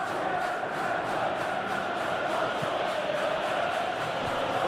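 Stadium crowd in a Chelsea vs Arsenal Premier League football video game simulation, roaring and cheering in a steady, dense wash of noise with no clear peaks or breaks.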